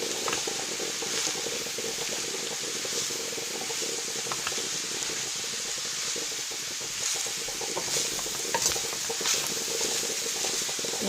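Garlic and onions sizzle steadily in a hot pan as filling for egg rolls, a dense, even crackle and hiss running unbroken from start to finish, close and fairly loud.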